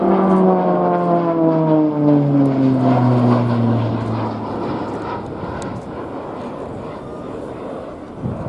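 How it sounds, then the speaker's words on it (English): A Tango 6 aircraft roars past at an air show, its loud propeller drone falling steadily in pitch as it sweeps by, then fading into a broad rumble with faint crowd noise. "On our left, flying with a speed of 280 miles per hour, the pilot will bank the aircraft to 90 degrees towards us"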